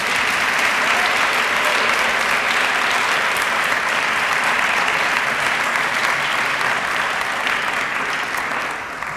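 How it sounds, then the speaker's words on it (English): Sustained applause from an audience at a college keynote event, steady and dense from start to finish before easing slightly at the very end. "A round of applause for them"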